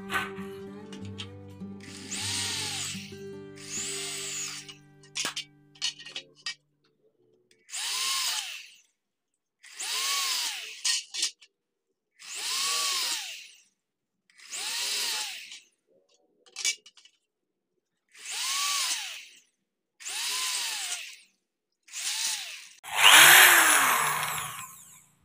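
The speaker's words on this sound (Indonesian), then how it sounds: "untuk ambangnya kita lubangi ya" A power drill bores holes into an aluminium door frame sill in repeated whining bursts of a few seconds each, separated by short pauses. About nine bursts sound close and fairly loud, and the final one is harsher and louder.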